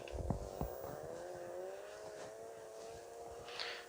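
A repaired electric scooter running in first gear gives a steady whining motor tone that rises slightly, close by, with a few knocks and bumps at the start.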